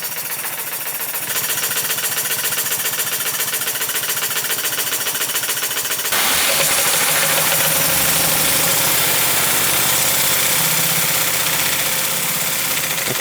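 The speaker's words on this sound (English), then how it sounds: "It's a powerful little engine" A small model steam engine runs steadily and loudly up close, a continuous mechanical chugging with dense rapid beats that grows fuller and louder partway through.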